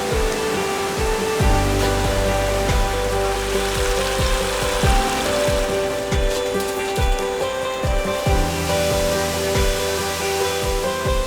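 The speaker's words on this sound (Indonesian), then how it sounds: "akhirnya saya pun sampai di air terjun pertama" A waterfall in the Kampar countryside, a steady loud rush of falling water with dense broadband spray and low rumble running unbroken throughout, close by and alone.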